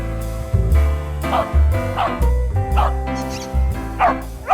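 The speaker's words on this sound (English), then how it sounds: "She barks to show she's found the ball." A dog barks repeatedly, about six sharp, excited woofs in an uneven rhythm, loud and close, with some whimpering tones between them.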